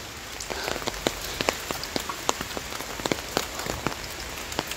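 Rain falls on a trekking trail near the MacRitchie Treetop Walk trailhead in Singapore, with scattered sharp drips and patters standing out against a soft, steady background of falling rain.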